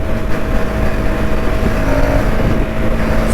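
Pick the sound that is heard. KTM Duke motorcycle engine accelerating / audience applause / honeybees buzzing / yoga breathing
KTM Duke motorcycle engine accelerating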